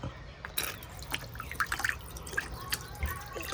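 Water trickling from a small DIY solar-powered succulent mosaic garden fountain outdoors, a faint, steady trickle with scattered soft drips over a low background hum.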